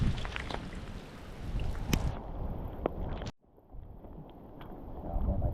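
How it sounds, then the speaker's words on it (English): Gusty winter-storm wind buffets the microphone outdoors at Lake Gregory, California, with a rough, rushing roar and a patter of rain, briefly cutting out before the blustery noise returns. "it's still pretty windy, and the rain has definitely increased out here"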